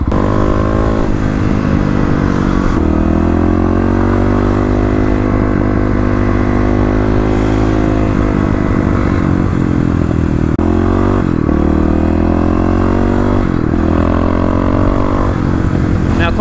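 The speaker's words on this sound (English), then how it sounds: "there's no better opportunity to get out and ride the KLX" A big bore Kawasaki KLX351 motorcycle ridden on open roads, its engine loud and close, with a continuous rumble and repeated revs and gear changes throughout.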